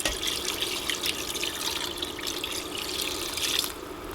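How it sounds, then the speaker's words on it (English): Water pours steadily into a big pot holding marinated pork bones for a Hmong pork-bone and cabbage soup, a continuous splashing gush that runs for several seconds and tapers off at the end, with no talk. "I'm going to add in some water."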